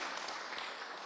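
Brief burst of audience applause at a spiritual lecture, a dense, even wash of many hands clapping at moderate volume with no one speaking.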